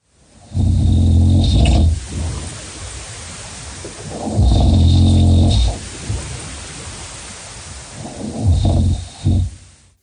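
Three loud, rumbling snores, each lasting over a second, separated by quieter breathing pauses, sounding close and a little distorted, as if played back from a recording.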